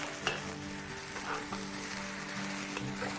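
Egg stirred through rice frying in a pan, a steady close sizzle with soft scraping stirs throughout, no voices.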